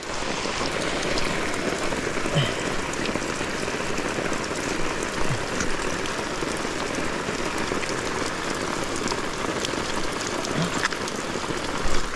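Heavy rain pours steadily on a survival campsite, a dense, loud, constant patter with occasional individual drops standing out close by, and no voices for the whole stretch.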